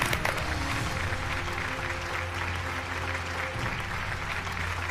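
An audience at a community health awareness gathering claps steadily, a moderate continuous patter over a constant low hum.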